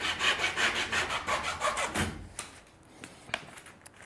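A wooden rib for a steam-bent skin-on-frame canoe is trimmed at its end with a saw, giving quick rhythmic rasping strokes for about two seconds, then a few sharp knocks and taps, close up.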